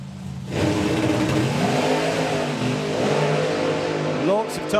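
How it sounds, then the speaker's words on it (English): A drag racing car's engine roars loudly at a nostalgia drag racing event, rising and falling as the throttle is blipped on and off, with a commentator talking over it. "You can hear him on and off the throttle there."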